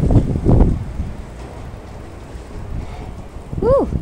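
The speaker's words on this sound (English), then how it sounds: "Ooh, it's windy up here." Wind blows upstairs, a broad rushing gust buffeting the microphone with louder bursts at the start and end, close and noisy, alongside a brief vocal sound near the end.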